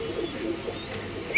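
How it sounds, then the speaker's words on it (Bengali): Black Danish pigeons at a large pigeon farm in Mirpur 13 give a soft, low coo that stays faint and close through a very short moment. "জমা ডিম সহ দর্শক দেখেন কালো ডেনিশ কবুতর"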